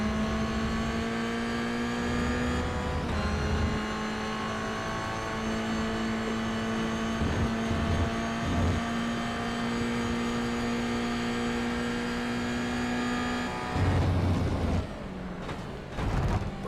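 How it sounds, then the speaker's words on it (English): A race car engine roars steadily from onboard at Jerez, a loud continuous drone with a shifting pitch, then a rougher rumble as it brakes over the ripple strip and slows near the end. "Braking over the ripple strip so you can just hear the noise. The car decelerated."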